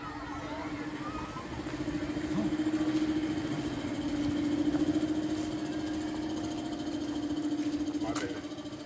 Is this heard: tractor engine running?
yes